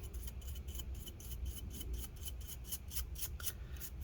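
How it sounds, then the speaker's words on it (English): A small brush sweeping dust from inside an HP Pavilion 15 laptop, rapid rhythmic bristle strokes repeated steadily, close and soft with no talking. "you can also brush off the dust from here"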